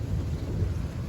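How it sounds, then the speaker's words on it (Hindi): Steady rain falls outside, a dense continuous wash with a low rumble of thunder underneath, with no voices. "वाह, आज इतने दिनों बाद बारिश हुई।"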